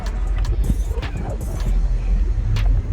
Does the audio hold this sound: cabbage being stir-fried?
no